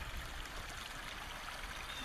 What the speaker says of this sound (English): Got that bilge pump running for that little waterfall there